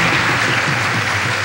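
Studio audience applauding on a Taiwanese television variety show, a steady, dense wash of many hands clapping at close range that holds evenly throughout with no talking over it.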